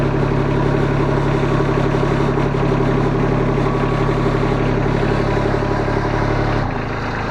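Ditch Witch SK800 mini skid steer engine idling steadily with a low, even rumble and a mechanical drone, cutting out abruptly near the end.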